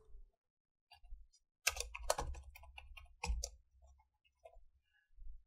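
Keys tapped on a computer keyboard while a password is entered, a close, quiet run of light clicks in short bursts with brief pauses between them.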